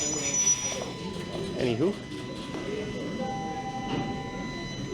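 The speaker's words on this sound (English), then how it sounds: "I'll be competing with the noisy train here" A noisy train passes through downtown Toronto, a steady broad rumble with rail squeals that runs the whole time beneath someone talking.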